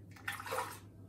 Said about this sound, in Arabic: ناخذ هذا قلاص المي